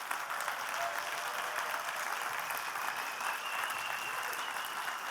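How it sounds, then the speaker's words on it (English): Conference audience applauding steadily at a game developers' event, a dense even wash of clapping sustained at moderate level throughout with no talk over it. "So genuinely, like a real clap now."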